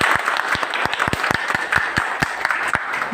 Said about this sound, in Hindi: तो एक बार हम चाहेंगे आप लोग ने जोरदार ताली।